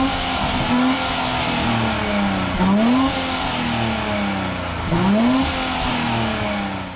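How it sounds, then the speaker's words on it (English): A 2023 Nissan Z's engine and exhaust blip twice from a steady idle, each rev rising quickly and falling back, heard fairly close with no talking. "this powertrain doesn't quite sound as good as the old naturally aspirated engine"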